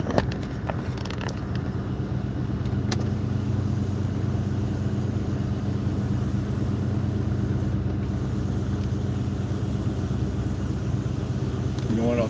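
A truck cruising in Dallas, Texas, its engine running in a low, steady drone for the whole stretch, with a few faint clicks near the start.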